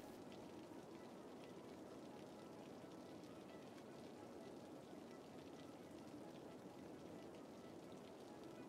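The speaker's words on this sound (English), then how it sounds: "Rain probably doesn't help either." Steady rain falling in the city-building game Cities: Skylines, a dense, even hiss of drops on surfaces that holds at a constant moderate level throughout with no breaks.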